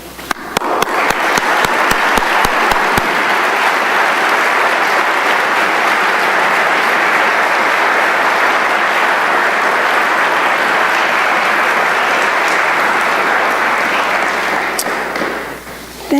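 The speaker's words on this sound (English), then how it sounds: "a round of applause, please" A crowd applauds steadily at a physician assistant white coat ceremony, opening with a few sharp isolated claps before settling into sustained, dense clapping that fades slightly near the end.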